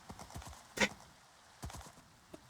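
A horse in the Minecraft video game, a few soft hoof clops and snorts spaced apart, with two louder bursts, fairly quiet and with no talking.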